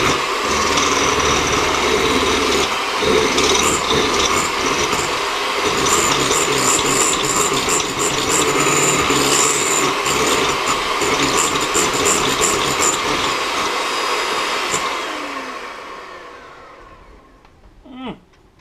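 A Kenwood stand mixer whipping vanilla meringue until thick and glossy, a loud continuous motor whir with a rhythmic whisk churn that runs steadily, then winds down and stops, followed by a small clatter.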